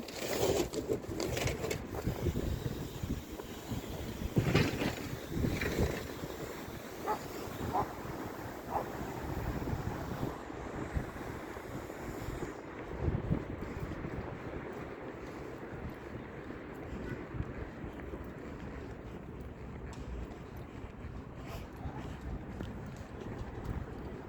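Wind buffeting the microphone in a continuous rough rumble, with brief voices and outdoor noise mixed in.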